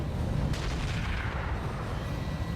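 Artillery fire in the BattleTech RogueTech game, a single sharp boom over a dense, rumbling battlefield background that stays loud throughout.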